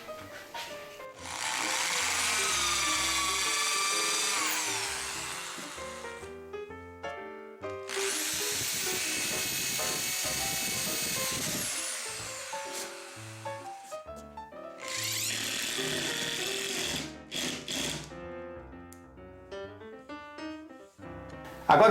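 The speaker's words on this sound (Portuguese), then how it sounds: "Veja de colocar a broca, o furo que você vai fazer, no meio da peça que está descendo, para que você não estufe a madeira" An electric drill drives screws into bilaminated MDF board in three sustained whirring bursts of a few seconds each, separated by pauses, over light background music and without talk.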